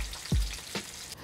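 Sautéed ingredients sizzle softly in a pan for papa a la huancaína, with a couple of brief clinks or stirring scrapes over a faint background hiss.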